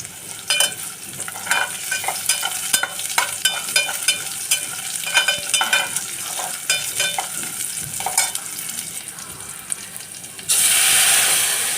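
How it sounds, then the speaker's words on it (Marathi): Lentils crackle and pop in hot tempering oil over low heat, with irregular sharp snaps and stirring scrapes, close up, ending in a louder steady sizzle. "असं छान तडतडल्यासारखा आवाज आला पाहिजे डाळीचा"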